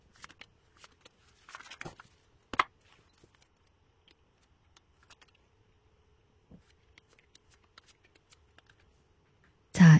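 Tarot cards are shuffled and handled in scattered short bursts of riffling and soft taps amid near silence, ending with a louder close rustle.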